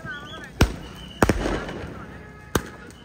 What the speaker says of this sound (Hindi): बहुत ही भयंकर आतिशबाजी हो रही है गाइस यहाँ पे